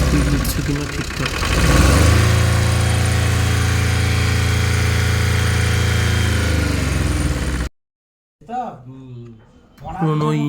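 An old van engine revved up to a sustained higher pitch and held, loud and close, then cutting off as people talk nearby.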